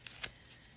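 A deck of tarot and oracle cards being shuffled gives two quick riffling bursts, close and soft, with no talking.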